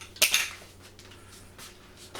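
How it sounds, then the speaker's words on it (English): Whisk or spoon clinking against a bowl while flour and dry ingredients are stirred, one sharp metallic scrape up front followed by a few soft, brief stirring strokes. "we just give them a quick little mix"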